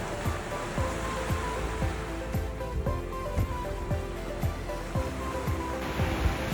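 Calm sea water at Puerto Galera beach in the early morning, a steady wash of gentle surf with soft lapping waves rolling in at a regular rhythm, close and continuous with no voices.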